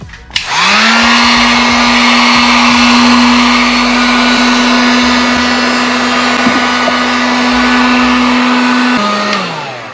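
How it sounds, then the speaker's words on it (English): A heat gun runs continuously at close range with a loud, even whine and airy roar, sealing reflective vinyl on a car taillight center divider, starting up and cutting off at the end. "I'm gonna go ahead and go over the heat gun, make sure it's all sealed properly"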